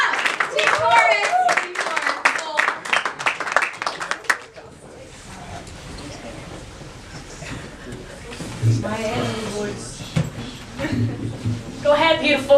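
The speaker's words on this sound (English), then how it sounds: "Clap it up." A burst of audience clapping and cheering rings out, then fades as a voice speaks over light scattered claps and murmurs.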